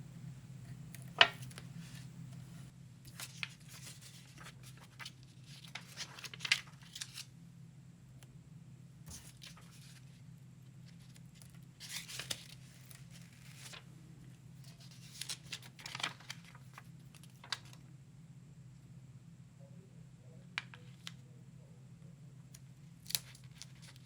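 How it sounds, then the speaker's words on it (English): Paper with adhesive backing is cut and then peeled, giving intermittent crisp snips and scratchy rustles scattered over a steady low hum, with no voices. "Just got to cut a bit off here. There we go. I'm peeling off the backing."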